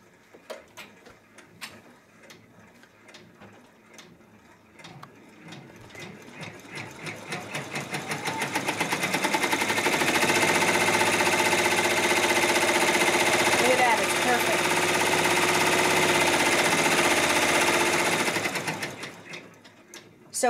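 A Brother PR1055 multi-needle embroidery machine stitches a tack-down run, starting with scattered ticks and clicks before settling into a loud, steady, rapid mechanical whir that holds, then winds down near the end.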